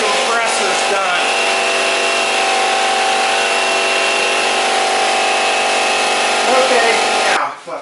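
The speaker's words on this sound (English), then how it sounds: "now my compressor's done charging" An air compressor charging in a home workshop, a loud steady mechanical drone with a hum that holds for several seconds before cutting off abruptly.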